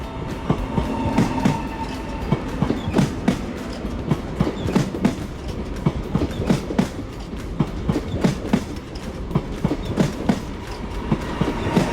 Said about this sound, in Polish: pociąg kolei śląskich do stacji Gliwice